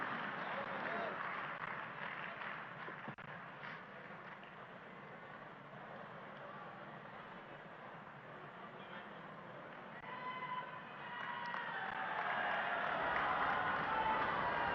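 An audience at a Delhi slum housing inauguration ceremony applauds, the clapping faint and spread out at first and then swelling louder near the end, with a voice speaking over it.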